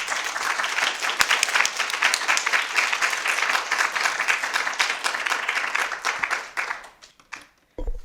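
Audience applause welcoming Professor Namhee Lee at a Yale memorial lecture, a sustained dense clapping from a full hall that holds steady for several seconds before tapering off and fading out.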